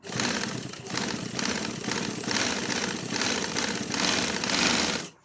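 Sewing machine stitching a kurta runs in a close, steady mechanical whir with a rapid needle rhythm and slight surges, stopping at the end.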